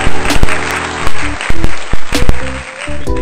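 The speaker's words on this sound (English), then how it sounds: "get this man a huge round of applause" A community gathering claps for a motivational speaker, and the applause comes through in bursts that swell and cut off, clipped and uneven, mixed in with loud thumps and tones like music.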